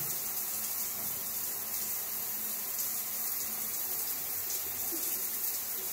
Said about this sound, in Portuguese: Parece que veio água ali de dentro.